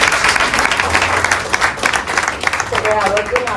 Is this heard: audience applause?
yes